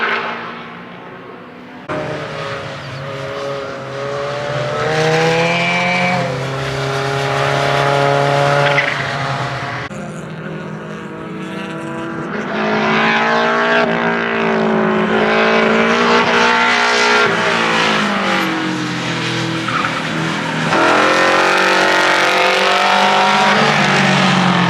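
A K24-swapped S10 race car laps the Gridlife track, its engine droning loud and steady with rising and falling revs through gear changes and tires squealing in the corners, sustained and close with no talk.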